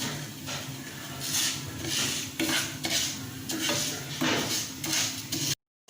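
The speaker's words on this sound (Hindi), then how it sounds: "इसे नीचे नहीं लगने देना, हमने चम्मच चलाते जाना।" Close, steady scraping and clinking as a spoon keeps stirring sewaiyan vermicelli browning in a pan for sweet zarda. A light sizzle runs underneath, and the sound cuts off abruptly near the end.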